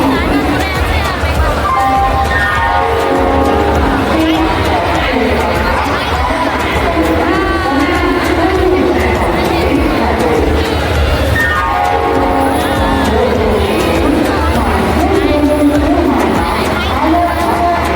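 A train at a railway station on a trip from Malda to Haldia rumbles loud and close, with long rising and falling whistle-like horn tones amid a crowd's steady chatter.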